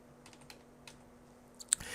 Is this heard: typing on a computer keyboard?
yes